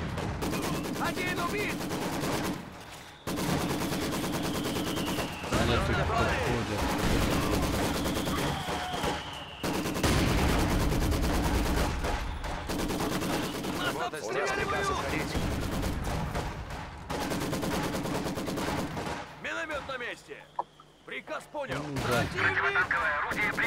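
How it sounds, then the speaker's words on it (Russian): Machine gun fire and other gunfire crackle through a Company of Heroes 2 battle, repeated bursts running almost the whole time beneath ongoing game noise, with people talking over it. "Осторожно, осторожно, пулемет сейчас это."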